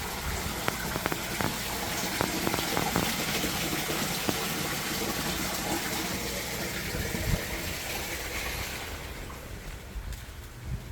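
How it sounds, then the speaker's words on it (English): A small garden waterfall on a front porch pours and splashes in a steady, broadband rush that fills the whole stretch, fairly close, easing slightly toward the end. "Yeah, front porch waterfall."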